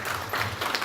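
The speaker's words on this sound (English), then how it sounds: "A round of applause, please." Brief applause from a workshop audience at a gas price report launch, a soft, blurred wash of clapping, short and steady.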